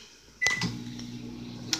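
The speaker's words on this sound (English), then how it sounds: "I'm gonna put it in the microwave for like 30 seconds." A microwave door clicks shut, a short beep sounds, then the oven starts with a steady low hum.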